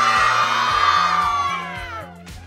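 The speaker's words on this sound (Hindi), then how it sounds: "चलो चिल्ला खूब तेज।" A crowd of children shouts and cheers loudly all at once at a village cricket match, a sustained excited roar that slowly fades, with a pulsing low electronic beat underneath.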